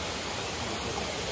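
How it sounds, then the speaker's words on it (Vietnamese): Stream water flowing steadily beside a campsite in a forest, a constant broadband rush heard up close with no break and no voices. "Cái dòng suối kế bên này hả?"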